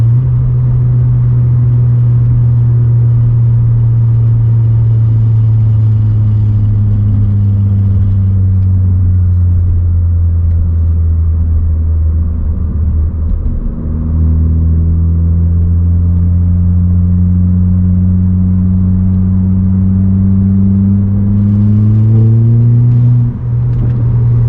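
A Volkswagen MK7 GTI with an EQT tune and a manual clutch pulls hard through the gears, its engine droning loud and steady and rising in pitch, with a brief dip at a shift midway.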